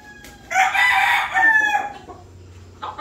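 A super brown red rooster from a 2024 breeding crows once, loud and close, a long strained call followed by a shorter tail, with quiet surroundings.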